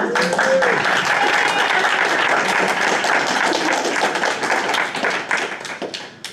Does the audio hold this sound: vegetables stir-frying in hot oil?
no